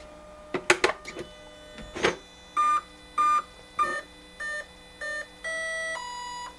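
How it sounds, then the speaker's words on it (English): A few clicks from handling, then a series of short electronic beeps from a large electric RC helicopter starting up, in a regular rhythm, each a steady tone, ending on longer tones. "And we have our happy beeps."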